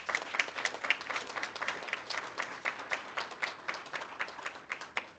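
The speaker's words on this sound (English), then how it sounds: "Can we give them another round of applause?" At a school board of education meeting, a room of attendees applauds steadily, a dense patter of claps at moderate distance with no talking over it.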